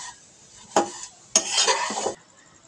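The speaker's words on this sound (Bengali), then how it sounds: "সেই জন্য আমি একটু ভালো করে ভাজতেছি" Semai vermicelli stir-fried in a pan, with two bursts of scraping and stirring against the pan, the second longer and busier, then quiet.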